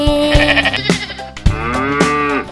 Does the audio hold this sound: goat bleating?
yes